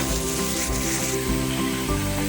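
Onions browning in oil for chicken biryani over low heat give a steady, soft sizzle and crackle, continuous and close, with a faint background hum.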